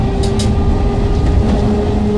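Passenger train running between Kharagpur and Khirai, heard from on board: a steady, loud rumble of wheels and carriage with a constant hum, no talk.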